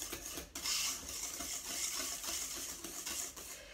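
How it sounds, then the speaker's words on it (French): Mascarpone being whisked by hand with sugar and eggs, soft rapid scraping and stirring strokes against a bowl, fairly quiet and continuous with no speech. "battre, fouetter ce mascarpone avec le sucre et les œufs pour obtenir un mélange homogène"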